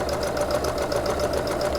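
Sewing machine running a straight seam on a fleece hat, a continuous close mechanical whirr with a fast steady needle rhythm throughout.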